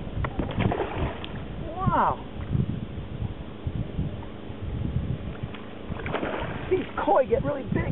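A hooked muskie thrashes and splashes at the surface of Greenwood Lake as it is brought alongside a boat, with sloshing water, wind buffeting the microphone and people talking throughout.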